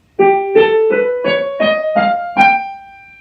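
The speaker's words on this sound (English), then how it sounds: "And here's the whole tone scale, which is what I used." Seven ascending tones in even whole steps, each a distinct bright note with rich overtones, the last one ringing out and fading alone.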